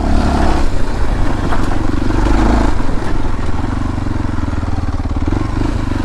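Motor scooter climbs a hill road toward a viewpoint at modest speed, its engine droning loud and close with steady throttle and wind rumble throughout, no talk heard.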